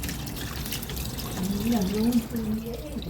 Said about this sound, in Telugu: కొంచెం నీళ్ళు ఎక్కువ పోసినా పర్వాలేదు మొత్తం క్లీనింగ్ అవుతుంది